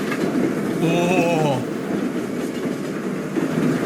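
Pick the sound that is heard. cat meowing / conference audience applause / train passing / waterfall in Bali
train passing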